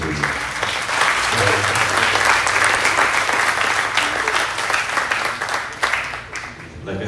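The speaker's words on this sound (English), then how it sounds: "One more round of applause for Jeff Peterson." Audience applause fills a live slack key guitar show, steady dense clapping from a crowd lasting several seconds before thinning out near the end.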